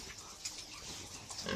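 Pigs grunting softly at a farm, a faint, short burst of low snorts and grunts with no talk.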